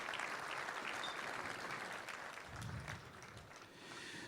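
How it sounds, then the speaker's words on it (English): Sustained audience applause at an evening startup event, steady and fairly close throughout, a dense clatter of many hands thanking the sponsors with no voices standing out. "So one last applause, if you could help me with that, to thank all of the sponsors for this evening."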